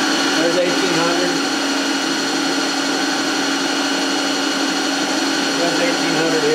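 Bridgeport Torq Cut 22 CNC mill spindle turning steadily in low range near 1,800 RPM, a continuous machine whine and hum with steady tonal lines, loud and unbroken throughout.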